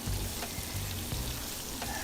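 Onions and chicken with eggplant fry together in a pan, giving a steady close crackling sizzle with a few light clicks of stirring and no voices.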